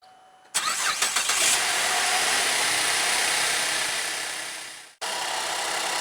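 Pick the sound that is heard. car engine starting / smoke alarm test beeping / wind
car engine starting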